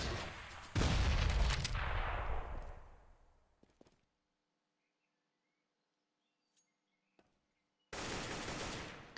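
Counter-Strike gunfire on de_nuke during an esports match sounds as loud, dense automatic bursts that echo away, followed by near silence with a couple of faint clicks before another heavy burst of fire.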